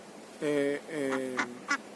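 Ducks crowd close around, giving a few loud, nasal quacks in a short burst, followed by two sharper, clipped calls.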